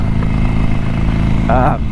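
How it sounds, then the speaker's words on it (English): A Harley-Davidson Sportster 1200 exhaust gives a loud, close, steady rumbling idle with a brief blip of revs near the end. "I actually quite like the sound of the exhaust."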